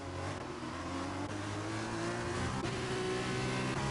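A pack of cars in a Formula V racing video game pulls away from the starting grid at a French round, engines droning steadily and rising in pitch as the field accelerates, loud and continuous with no voices.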